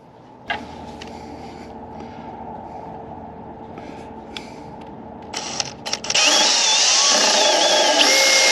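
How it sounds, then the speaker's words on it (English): A handheld power drill starts up close and runs steadily at high speed for a few seconds in a truck camper bed build with wooden boards, after a stretch of quieter workshop handling noise. "Now I need my drill."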